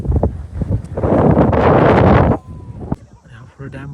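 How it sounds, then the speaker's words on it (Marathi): Strong gusting wind on an open hillside near the Urmodi dam in Satara buffets the microphone with a loud, rough roar for over a second, fading into quieter rustle while people talk nearby. "वारा बिरा खतरनाक आलाय"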